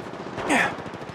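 Automatic weapon fire in the mobile battle-royale shooter Apex Legends Mobile, a brief, loud burst of rapid shots rising out of the game's background din and lasting well under a second.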